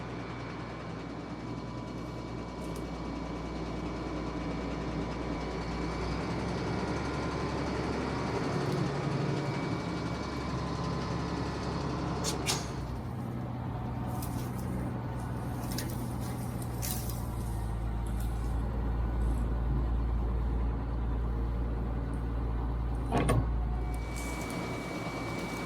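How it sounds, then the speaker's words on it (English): A military truck's engine being bumped over to check it turns freely, heard as a continuous low mechanical rumble that lasts the whole stretch at a steady level, with a few faint knocks and no speech. "Hank, let me just bump it and see if it's free."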